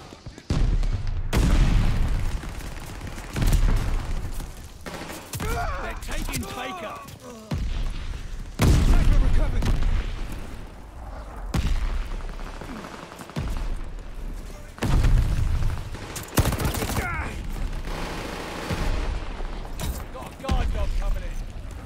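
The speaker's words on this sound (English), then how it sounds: "Good time for a mortar barrage. Heads up. Allied mortar fire coming." Allied mortar barrage explosions in the Call of Duty Vanguard video game, repeated heavy booming blasts and rumbling impacts in a loud sequence, with voices speaking between and over the explosions.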